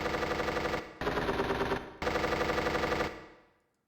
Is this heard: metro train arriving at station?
no